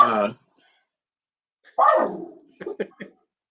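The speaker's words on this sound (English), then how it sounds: "sorry, my dogs are going crazy." Dogs bark at home during a live broadcast: a sharp bark, then a longer yelping bark and a quick burst of several short barks, fairly close and loud against near silence.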